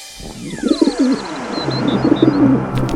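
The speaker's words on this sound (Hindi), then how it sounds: "ये कबूतर कितना बदमाश है" A pigeon coos in soft, repeated throaty rolls close by, with chirpy bird calls and a rising tone threading through the background.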